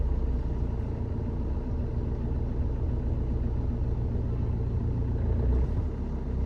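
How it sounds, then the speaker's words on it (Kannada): A car engine runs low and rough as the clutch is let out with the brake held, shuddering near stalling in a steady, close, loud rumble with no talk. "ಫುಲ್ ಗಡ ಗಡ ಗಡ ಗಡ ಗಡ ಅಂತ ಆಫೇ ಆಗಕ್ಕೆ ಹೋಗ್ಬಿಡುತ್ತದು"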